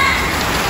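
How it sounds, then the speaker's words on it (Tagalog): Heavy rain pours down suddenly in a dense, steady hiss, loud and close as it drums on surfaces. "Bigla naman po talagang malakas na ang ulan."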